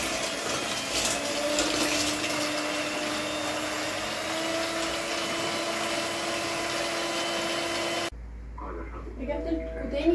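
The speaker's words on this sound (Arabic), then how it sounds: "يلا نضرب كل المكونات دي كلها" A whisk or mixer beating cake batter ingredients in a bowl, a continuous close whirring churn with a steady hum, which cuts off abruptly near the end into quiet room sound.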